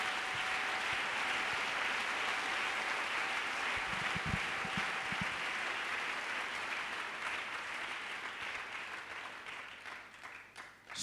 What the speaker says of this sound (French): Clap for God the Father.